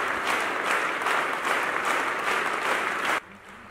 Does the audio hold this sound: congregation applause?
yes